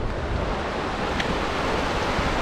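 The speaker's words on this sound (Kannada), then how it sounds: "ನೋಡಿ ಅಲ್ಲಿ ಮೇಲಿಂದ ನೀರು ಹರಿದೋಗುತ್ತೆ ಹೋಗುತ್ತೆ" Water flows down the travertine terraces of Pamukkale, Turkey, as a steady, broad rushing wash with no clear breaks and no voices.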